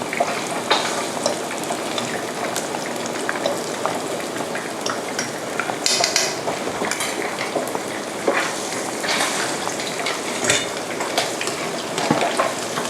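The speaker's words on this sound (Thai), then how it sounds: "กระจายไข่นะคะให้ทั่วสำหรับการทอดปลานะคะ" Fish frying in a few spoonfuls of oil with spread egg, sizzling steadily and crackling close up, with occasional sharper pops and brief stirring scrapes, no voices.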